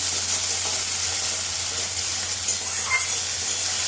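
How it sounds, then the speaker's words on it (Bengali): Small diced potatoes fry in hot oil in a pan with bay leaves, giving a soft, steady sizzle throughout, with a brief light clink partway through. "একটু ভাজা ভাজা হবে আগে"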